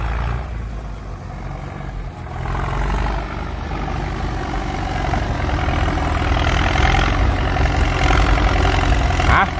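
A Ford 6610 tractor engine with an H pump runs with a deep, steady diesel rumble that swells slightly louder over the stretch, close by and without talk.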